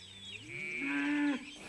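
A single cow lets out a loud, close moo, rising in pitch and holding steady before cutting off abruptly, heard alone against quiet background.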